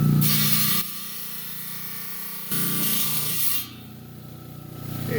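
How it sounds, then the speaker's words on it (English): A small beach rock is cut down the center with a power saw, giving a loud steady grinding whine that shifts in pitch and intensity as the blade bites, then eases off toward the end. "I'm just going to slit him right down the center."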